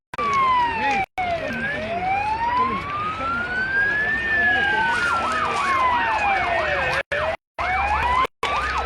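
Several emergency vehicle sirens, ambulances among them, wail and sweep at the scene of a train derailment, with overlapping rising and falling tones and fast yelping cycles, loud and continuous with a few brief cutouts.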